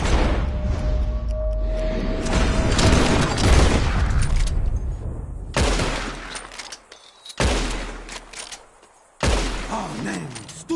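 Rapid, loud gunfire rings out in bursts as flying birds are shot at in Red Dead Redemption 2, with dense overlapping shots, brief pauses and fresh volleys, and voices talking through it.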